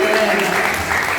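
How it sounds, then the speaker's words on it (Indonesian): Brief burst of dense clapping from a group of students welcoming classmates from Biak, Papua, at a school event, with voices mixed in under the applause. "Tepuk tangan untuk Papua."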